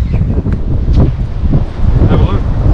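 Strong gusty wind buffets an awning at a beach spot, rumbling close to the microphone, with flapping, rustling bursts throughout and no voices.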